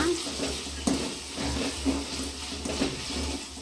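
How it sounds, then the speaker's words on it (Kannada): Tomato mixture seasoned with salt bubbles and sizzles steadily in a pan on the stove, with a few louder stirring scrapes at roughly one-second intervals over the continuous cooking hiss. "ನೋಡಿ, ಎಷ್ಟು ಚೆನ್ನಾಗಿ ಬಾಯ್ಲ್ ಆಗ್ತಾಯಿದೆ"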